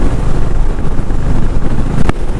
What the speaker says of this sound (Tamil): காற்று தாங்க அப்படியே வண்டி இந்த தள்ளுது.